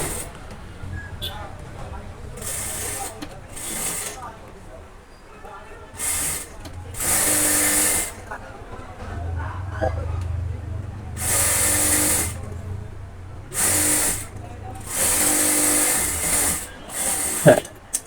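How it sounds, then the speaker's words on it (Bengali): A sewing machine runs in short bursts of a few seconds each, stitching a side seam on pyjama fabric up close, with someone talking in the gaps between bursts. "ঠিক ওর উপর দিয়ে আরেকটি সেলাই দিয়ে দিচ্ছি যাতে পায়জামাটা অনেক হার্ডি হয়"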